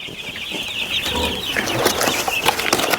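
Australorp hens give soft, continuous clucking and chirping on a homestead, several birds close by layered over one another, with scattered scratching and rustling and no talk.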